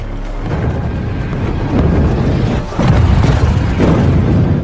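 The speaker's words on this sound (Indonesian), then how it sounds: "Seketika ledakan dahsyat menghancurkan Alexandria dan Carl yang masih berada di sana mulai mem" Massive explosion destroying the Alexandria community in The Walking Dead, a loud sustained rumbling boom with repeated surges of blast and debris, dense and close throughout.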